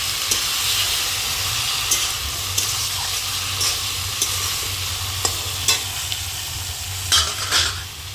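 Vegetables being stirred and fried in a pan at home, a steady close sizzle and hiss with occasional scraping clinks of a utensil against the pan.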